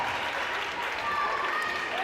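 Applause from a team bench at a high school girls basketball game, steady mid-level clapping sustained through the moment, mixed with gym crowd noise and a faint squeak or whistle.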